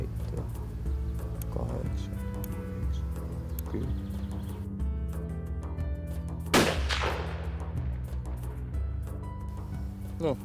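A single sharp rifle shot at a roe deer hunt cracks out and echoes away, set against steady background noise and some talking.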